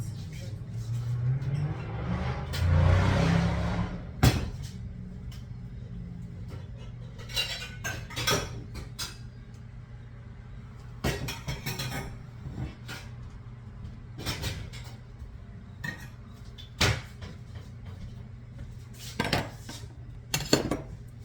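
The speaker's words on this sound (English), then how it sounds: "And let me get us another saucepan." A saucepan fetched and handled among pots and pans in a home kitchen, with repeated sharp metallic clanks and knocks spread through the clip, some cupboard-like thuds, and someone talking in between.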